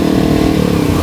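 A Yamaha WR155R dual-sport motorcycle with a 150 cc four-stroke engine revs loudly up close in a brief, steady throaty burst.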